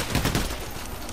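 Rapid gunfire from the video game Payday crackles in a short dense burst, loud at first and then settling into a rough, noisy wash.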